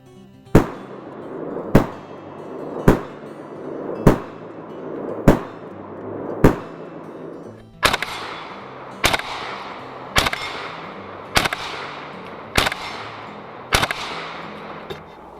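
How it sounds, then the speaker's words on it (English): Thirteen loud rifle shots from a PAP M92 with a bare muzzle, fired one at a time at a steady pace of roughly one per second, each a sharp crack with a ringing outdoor tail and no talking. "So right now we're trying the PAP M92 without any sort of muzzle device on it."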